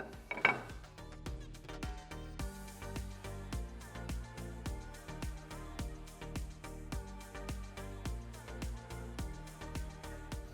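A table saw blade is lowered with its height crank, producing a rhythmic run of metallic ratcheting clicks at a regular pace, fairly close and clear, with no speech.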